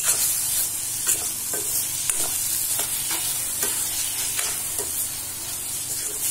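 Finely chopped tomatoes sautéing in a pan for paneer bhurji: a steady hiss of frying, with stirring scrapes and light ticks repeating every second or so.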